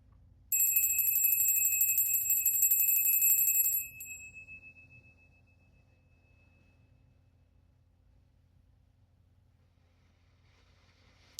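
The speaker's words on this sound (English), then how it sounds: "Let's ring the bell to clear the energy and invite truth from spirit in." A single bell is struck once, ringing bright and clear at the start of a tarot reading, then slowly decaying over several seconds into a quiet room hum.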